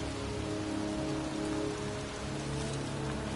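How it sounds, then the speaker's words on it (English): Rain pours steadily in a cemetery, a dense, even hiss of drops on surfaces that stays constant and fairly soft throughout, with no voices or other sounds breaking through. "It's cold. It's raining."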